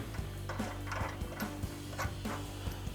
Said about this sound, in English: take your 18mm swivel socket and tighten those down